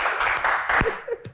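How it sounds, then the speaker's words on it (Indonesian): Brief applause from a studio audience at an Indonesian talk-show Q&A panel of politicians, a short burst of clapping mixed with a little voice. "Tepuk tangan"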